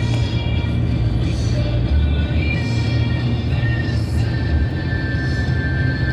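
Heavy road rumble of semi trucks on the turnpike, a steady loud low drone with faint higher whine, continuous throughout with no clear separate pass-bys.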